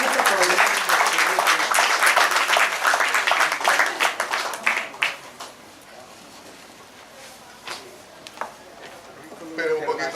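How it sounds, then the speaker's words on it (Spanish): An audience at a public talk in Guayaquil applauds to welcome a speaker, dense clapping for about five seconds that thins into scattered claps, with voices afterward. "Lo recibimos con un fuerte aplauso."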